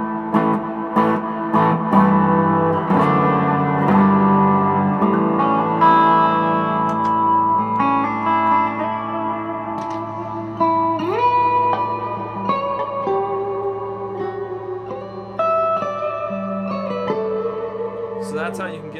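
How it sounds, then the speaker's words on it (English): Electric guitar notes ringing out through an MXR reverb pedal, swept by a Moog expression pedal, sustained chords blooming into a deep, cavernous wash that fades and swells. "this Moog expression is controlling the MXR reverb"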